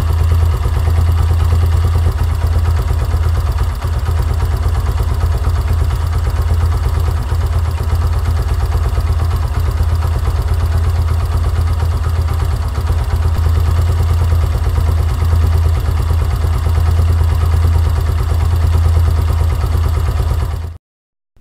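A Yamaha YBR125 motorcycle's carbureted engine idles steadily and close by with a constant low rumble and no talk, running smoothly while the idle mixture screw is adjusted.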